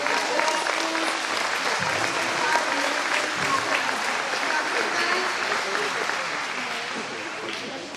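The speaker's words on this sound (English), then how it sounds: "We'd like to give a round of applause for our school-wide dance program." A school audience at a May Day event applauds a school-wide dance program, dense sustained clapping that holds steady and fades slightly toward the end, with voices mixed in among the crowd.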